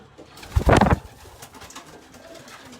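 Racing pigeons in a loft give a short burst of throaty cooing, close and fairly loud, followed by quieter rustling and faint background sounds.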